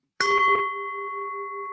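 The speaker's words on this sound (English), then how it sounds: "Can you hear this gong?" A single stroke on a small gong or singing bowl gives a bright metallic attack, then a clear, pure ring that holds steady and rings on alone in a quiet room.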